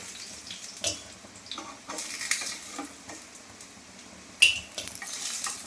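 Vegetable fritters (bora) frying in oil, a light crackling sizzle with intermittent stirring and bursts of louder spatter as pieces are moved or lifted, close and unaccompanied by speech.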